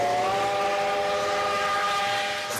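A steam train sounds its whistle in one long, steady, loud multi-tone blast that fades slightly toward the end, with no talk.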